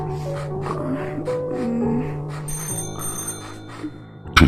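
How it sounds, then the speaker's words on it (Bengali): A telephone beside a bed rings with a few brief, high bell-like tones over soft background music, then a sharp burst at the end. "ঠিক সেই সময় ফোনটা বেজে উঠল বিছানার টেবিলের পাশে"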